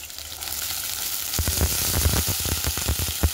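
Diced potatoes frying in hot mustard oil with nigella seeds for a bok fish dish: a steady close sizzle that grows louder, with quick spatula taps and stirring scrapes in the second half.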